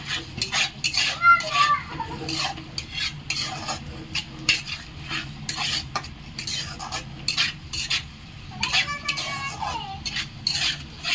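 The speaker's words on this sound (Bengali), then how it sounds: "কাজু বাদাম বাটা এবার এটি আমি ভালো করে কষিয়ে নেব" Cashew paste cooking in a pan for Kashmiri aloo dum, stirred repeatedly with a metal spatula that scrapes and clinks in quick, uneven bursts over a low sizzle, with faint background voices.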